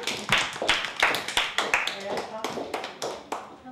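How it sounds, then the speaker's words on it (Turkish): A group claps together at a child's birthday party, with brisk rhythmic bursts of hand claps going steadily throughout, mixed with voices talking. "Alkışlayalım arkadaşlarımızı."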